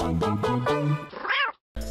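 A small cat meows repeatedly at close range, a string of loud, drawn-out harmonic meows ending in a rising-falling cry, then a short pause before another sound begins.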